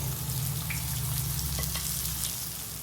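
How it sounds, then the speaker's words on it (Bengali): A fish head frying in oil in a pan for a Bengali curry, a steady close sizzle over a low stove hum, with a few light scrapes of a spatula, no talking. "মাছের মাথাটা আমার ভাজা হয়ে গেছে, এরকম লাল করে ভাজতে হবে।"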